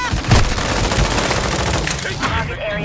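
Heavy enemy gunfire in Modern Warfare 2 Hardpoint multiplayer, a loud dense fusillade of overlapping shots that rattles on continuously close by.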